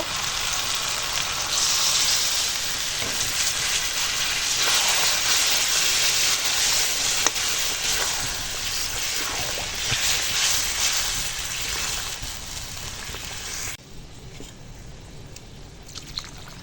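Goat meat curry sizzles loudly in a pan after water is added, a steady dense crackling hiss that holds for most of the stretch before dropping off sharply near the end.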